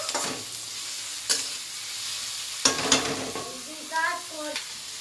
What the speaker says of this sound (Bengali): ভাজতে হবে।